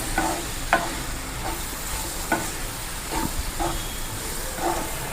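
Chopped tomatoes stirred into an Andhra-style bitter gourd curry in a pan, a continuous hiss of frying with periodic soft knocks and scrapes of the spoon.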